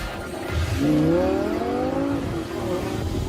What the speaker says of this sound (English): I'm about to perform an overtaking manoeuvre in the 552 horsepower Lamborghini Gallardo